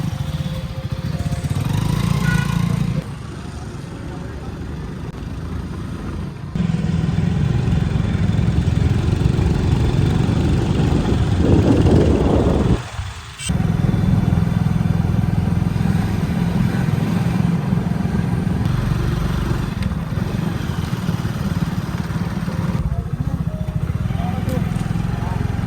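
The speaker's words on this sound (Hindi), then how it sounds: "मैं बाइक पे जाने को तैयार हूँ, और ये भैया जो है बाइक पे ले जाएंगे मुझे" Motorbike ride as a passenger, the engine droning steadily and loudly throughout with brief dips and one sharp break midway, riding along in the open.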